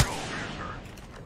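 Gunfire in the video game Apex Legends: a sharp, loud burst opens, then rapid shots roll on for about a second as a fusillade.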